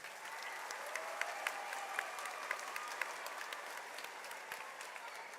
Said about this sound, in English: Give them all one big round of applause